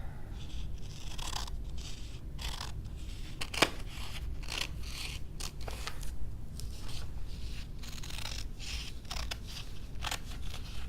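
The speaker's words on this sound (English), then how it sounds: "you're going to use scissors to cut both of them out" Repeated crisp snips and slicing strokes of scissors cutting through cheesecloth and paper, steady and close, with no talking.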